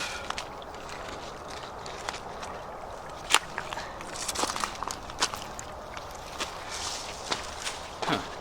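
Footsteps of someone walking through a creek outdoors, with sparse, irregular crunching and splashing steps over a quiet, faint background, some steps sharper and nearer than others.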